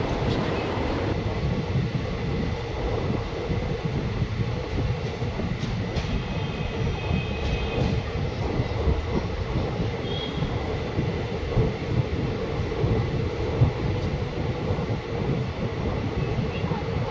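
Steady rumble of a passenger train running on rails between Nagpur and Jabalpur via Chhindwara, a continuous close rolling roar with faint wheel and wagon noise throughout.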